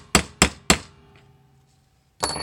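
Three sharp hammer blows on a metal punch set against a metal blade, struck at an even pace close to the mic, each ringing briefly before a pause and a final clatter.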